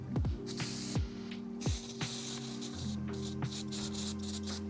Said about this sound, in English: We're not gonna spray this directly onto it so it doesn't get in the bearing.